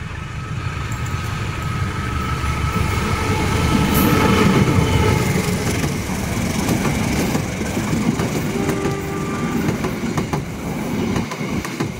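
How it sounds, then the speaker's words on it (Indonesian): The Gaya Baru Malam Selatan passenger train runs straight through Solo Balapan station in Indonesia with a loud, close, continuous rumble, rhythmic wheel clatter and faint metallic squeals along the rails. "gaya baru Malam Selatan melintas langsung ya"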